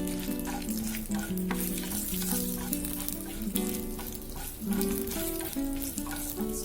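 Dried red chillies fry in hot oil for a chutney tempering, giving a steady close sizzle and crackle that runs throughout beneath prominent background music.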